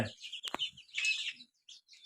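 Chickens on a small backyard farm give a few short clucks and chirpy calls, close and fairly quiet, with brief pauses between bursts.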